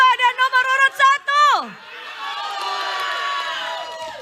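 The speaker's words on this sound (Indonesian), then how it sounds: "kita berikan aplaus untuk paslon nomor urut 2 dan nomor urut" An audience at a regional candidate debate cheers for candidate pair number 2, a sustained, moderately loud wash of crowd noise that follows a shouted, chant-like voice heard up close at the start.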